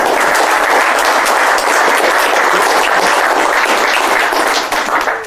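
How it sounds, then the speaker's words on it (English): An audience applauds in a dense, sustained burst of clapping that carries on throughout and tapers slightly at the end. "Give him a big round of applause, please."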